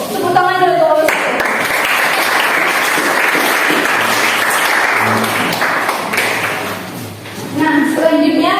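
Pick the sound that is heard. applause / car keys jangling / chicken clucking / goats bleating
applause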